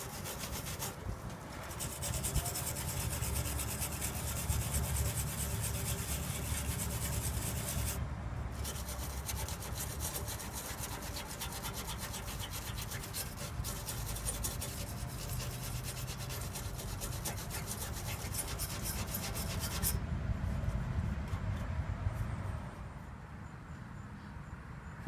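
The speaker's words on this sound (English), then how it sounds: "Let's start by taking the copper brush and gently just scraping off any loose debris and rust off of that area." A copper brush scrapes loose rust and debris off a metal surface, giving a steady, close, harsh scrubbing noise that runs continuously for about twenty seconds before easing off, with no talking.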